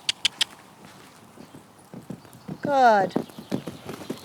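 A horse cantering toward a jump gives sharp hoofbeats at the start, then a rhythmic run of softer thuds, with a loud whinny near the middle and a brief spoken word.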